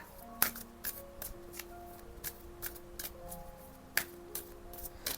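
Tarot and oracle cards shuffled by hand, a soft run of quick riffling flicks and slaps repeating at a steady rhythm, close and fairly quiet, with faint tonal chimes lingering in the background and no talking.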